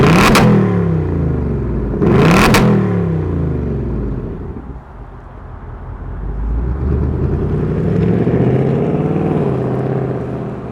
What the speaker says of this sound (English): let's fire up this V8 and see if it sounds better than the